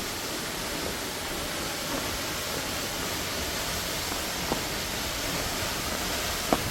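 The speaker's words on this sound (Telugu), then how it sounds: "Water falls." A waterfall in Wayanad, Kerala roars as a steady, broadband rush of falling water, even and unbroken, with a couple of faint clicks.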